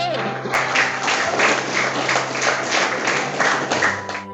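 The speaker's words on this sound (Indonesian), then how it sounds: "Silakan diberi aplaus, tepuk tangan yang keras untuk kelompok yang maju." Applause from a classroom of students for a group coming up to present, a dense, steady patter of clapping running throughout with some voices mixed in.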